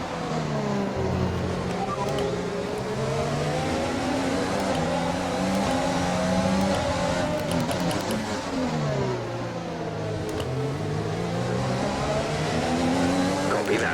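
Simulated Formula 1 racing cars in the F1 2020 game at the Azerbaijan Grand Prix, Renault and Honda engines screaming and shifting through gears, sustained and loud with rising and falling pitch, while a voice talks over them.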